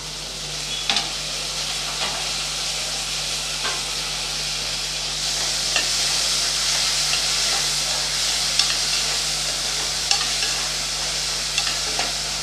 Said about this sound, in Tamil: ஒரு பெரிய வெங்காயம் பொடியாக கட் பண்ணி வச்சுருக்கேன் அதையும் சேர்த்துடலாம் சேர்த்து நல்லா வதக்கி விட்டுடலாம்